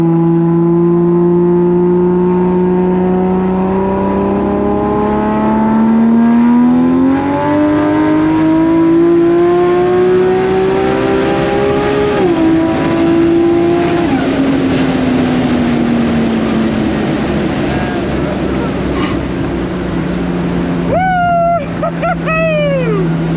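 A street-driven 1000+ horsepower Toyota Supra accelerating hard with its wheels spinning, a loud engine note climbing and wavering through the revs, then shifts and a sharper rise near the end.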